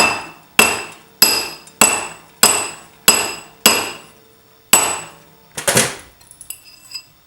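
A hammer taps a metal ring on a mandrel to stretch it larger, giving about eight sharp, evenly spaced metallic strikes that ring briefly, then a scraping shuffle and faint clinks near the end; no talking.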